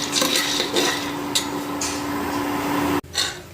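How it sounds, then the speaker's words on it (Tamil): Peanuts are dry roasted in a pan, a rattling, scraping stir with light clinks of the spatula against metal over a steady hum, close and moderately loud, briefly interrupted near the end, with no one speaking. "வேர்க்கடலையை ஃபர்ஸ்ட் வறுத்துக்கலாம்."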